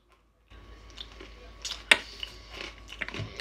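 A crunchy Israeli snack is chewed close to the mic, with a few sharp crunches and softer bites over a few seconds after a short silence.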